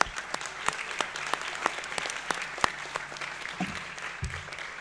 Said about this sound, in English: So, round of applause for all those ladies.